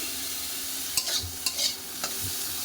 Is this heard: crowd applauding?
no